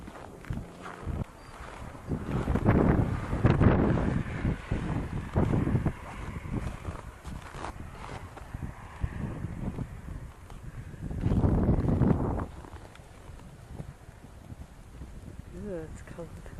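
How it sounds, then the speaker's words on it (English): Strong blizzard wind blowing outdoors, a continuous roaring rumble that buffets the microphone and swells in heavy gusts over about seventeen seconds. "because the wind is blowing so hard"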